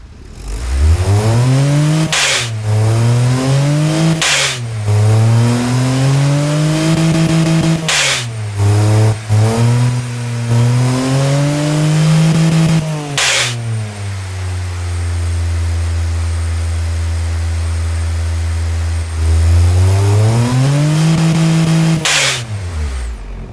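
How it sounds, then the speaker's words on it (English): An inline three-cylinder premium SUV engine in the Automation car game revs up and down in repeated pulls, a smooth, quiet hum with rising and falling pitch, alone. "This is how it looks, and this is how it sounds."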